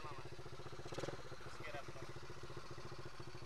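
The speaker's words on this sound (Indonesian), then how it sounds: "Motor ATV. Oh, ATV." A small ATV quad bike engine runs with a rapid, even putter close by, and voices talk over the idle throughout.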